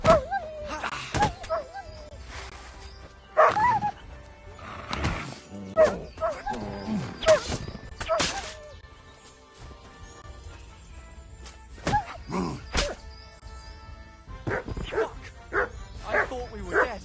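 In the medieval video game Kingdom Come Deliverance 2, a dog barks in repeated sharp bursts mixed with yips and growls. Voices talk and shout between and over the barking, and a faint music bed runs underneath.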